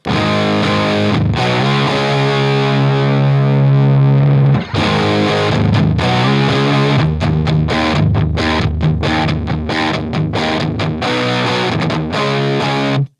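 An electric guitar runs through a Drunk Beaver Seattle Driver distortion pedal for a thick, loud, fuzzy grunge tone, sustained chords ringing for several seconds before a brief break and a run of choppy, stabbing strums.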